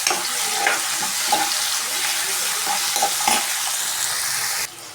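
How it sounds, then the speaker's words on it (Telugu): Tomatoes frying with crushed garlic in a pan, a continuous close sizzle with soft stirring scrapes and small pops, ending with a slight drop in level, no voices. "ఇప్పుడు కచ్చపచ్చగా దంచుకున్న ఎల్లిపాయ, ఇవన్నీ ఫ్రై అయ్యాయి కదా. ఇప్పుడు కొన్ని టమాటాలు వేసుకుందాం."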